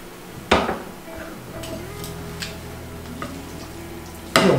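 A spoon stirs pasta through bolognese sauce loosened with pasta cooking water in a pot, soft wet sloshing with a few sharp clanks against the pan at start and end, close up.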